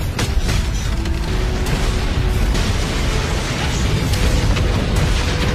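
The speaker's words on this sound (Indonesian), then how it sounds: "Yang seketika membuat ledakan dahsyat" A dense, loud rumbling blast in the animated series Swallowed Star, a huge explosion from a spaceship's laser attack, stays thick and roaring throughout, like a sustained explosion with crackling debris.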